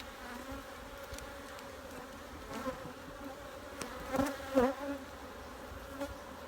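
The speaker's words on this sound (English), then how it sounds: "Let the bees work their own way off them." Honey bees buzzing around hive frames set down beside the box during a December honey harvest, a steady soft drone with a few louder passes as individual bees fly close near the end.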